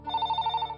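A telephone bell rings in a Tamil TV serial scene, a loud, rapid electronic trill pulsing evenly through the short moment with no speech over it.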